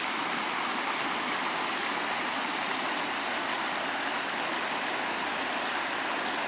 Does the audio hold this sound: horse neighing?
no